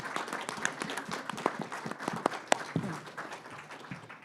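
A small audience claps for panel members at a health care collaboration event, scattered fairly quiet applause with a few sharp individual claps standing out.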